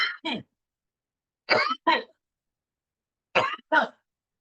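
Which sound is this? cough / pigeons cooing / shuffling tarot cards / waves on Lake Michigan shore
cough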